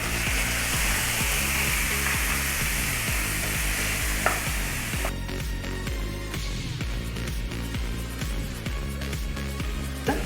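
Two chopped medium tomatoes hit sautéed onions for a chicken kurma, loud steady frying hiss that shifts partway through as the pan contents change, with a continuous low rumble underneath and a few faint scrapes.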